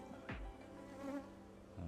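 Defensive honey bees buzz steadily around a hive, a dense droning hum with a louder sweeping pass of a bee flying close by.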